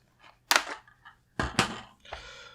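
Parts of an IWI Galil Ace Gen 2 rifle being taken apart: a few sharp metallic clicks and clacks in quick succession, close and fairly loud, with softer handling rattles between them.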